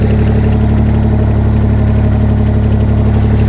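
A troublesome Bolens QT 16 garden tractor engine idles after a cold start, giving a loud, steady, close low rumble that throbs evenly without change throughout.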